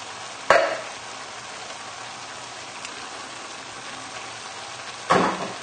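Two tins of chopped tomatoes go into a pan of bolognese sauce, with a wet splat at the start and another near the end, over a steady hiss of sizzling from the hot pan.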